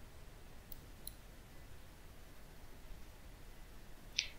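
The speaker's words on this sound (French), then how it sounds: "Je clique sur Calculer." A single faint computer mouse click lands near the end of an otherwise quiet stretch of low background hiss.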